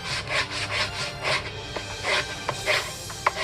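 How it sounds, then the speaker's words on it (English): A belt sander rounds off the sharp edge of a wooden campus board rung, a close, rhythmic, rasping scrape in repeated strokes with a few sharper ticks. "And I can come in here almost like a wood rasp and just take off"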